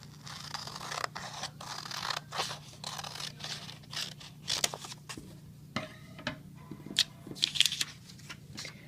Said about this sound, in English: So I'm going to grab a scissors here and cut that off.